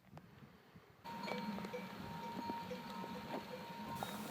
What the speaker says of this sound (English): I can hear the goats.